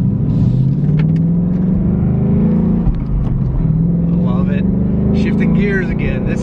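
A 2021 Ford Mustang Mach 1 with a manual gearbox drives along, its engine rumbling loudly and steadily with rising revs and gear changes, while someone talks over it.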